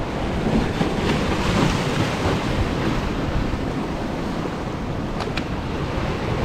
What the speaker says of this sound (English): It'll blow away. It's very windy here.